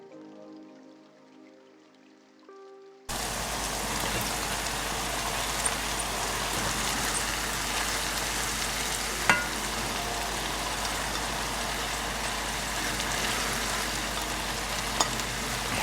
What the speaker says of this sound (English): I'm going to add about half of a puck of garlic and saute it for 30 seconds to a minute and let it get aromatic